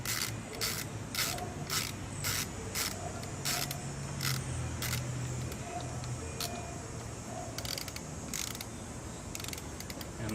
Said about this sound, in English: what I like to do is just tighten it up. By hand the first little bit